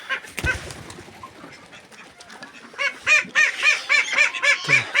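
Small domestic ducks, slightly smaller than wild ducks, quacking and honking repeatedly, a busy, close chorus of calls in a rhythmic run of bursts toward the end.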